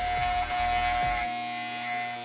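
Electric hair clippers buzz steadily and close up while shaving someone's own hair at home, with a constant hum and slight shifts in pitch as the blades move.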